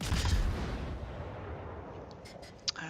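Naval guns from the World of Warships video game rumble in a long, low booming roll that fades out, followed by a few faint, distant thuds. The sound is fairly quiet overall.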